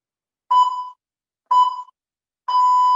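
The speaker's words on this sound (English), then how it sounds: "wait for the buzzer." A workout interval timer buzzes three times at a steady one-second rhythm, each a loud, clean electronic tone, the last one held longer, alone against silence.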